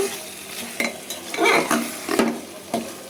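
Beef sautés with spices, garlic and new potatoes in a pot with little oil, a soft sizzle broken by several rhythmic scraping stirs of a utensil, close and clear, with no talking.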